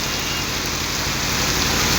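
Heavy rain pours down in a steady, dense wash of drops hitting surfaces close by, continuous and unbroken with no voices.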